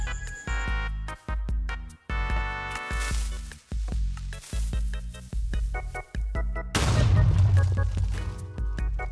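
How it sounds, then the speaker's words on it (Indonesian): TNT blocks fired from redstone dispensers in Minecraft Bedrock explode as a couple of loud, rumbling bursts, the longer one near the end, over steady background game music. "TNT-nya terbang lalu meledak"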